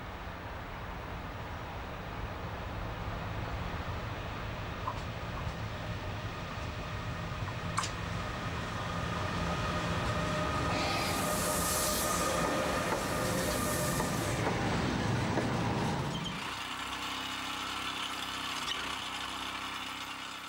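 A train hauled by a new-build Taurus electric locomotive on the Mittelweserbahn rumbles past steadily with wheels grinding and a high squeal rising midway, then the noise cuts off as it moves away, leaving a low hum.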